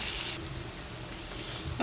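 Prawns sizzle and crackle steadily in a hot pan before cabbage is added, a continuous frying hiss with a small clink near the end.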